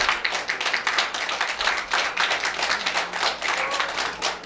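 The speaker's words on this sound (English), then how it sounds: "Keep clapping until she comes." Sustained applause from an audience, many hands clapping densely and steadily throughout at fairly close range, with faint voices mixed underneath.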